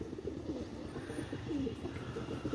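Pigeons cooing softly in a pigeon sale setting, several low throaty coos repeating at an easy pace under a dull steady background hum, fairly faint and with no talk.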